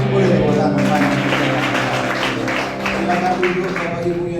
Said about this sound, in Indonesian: boleh tepuk tangan banyak